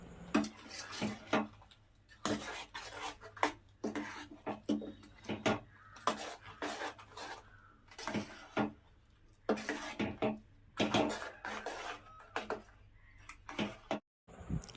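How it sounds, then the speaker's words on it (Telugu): A ladle stirs jaggery melting into milk in a pot for sweet rice pudding, giving repeated close scraping and knocking strokes in a steady, uneven rhythm. "అలా బెల్లం వేసిన తర్వాత మొత్తం గరిటెతో కలుపుకోవాలి, బెల్లం అంతా కరిగేదాకా."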